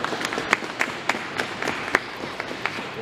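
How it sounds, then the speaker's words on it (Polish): An audience at a Poznań gathering of carolers and bagpipers applauds an Irish band, with a dense wash of clapping punctuated by a few louder individual claps, steady and moderately loud throughout. "Wielkie brawa dla naszych przyjaciół z Irlandii"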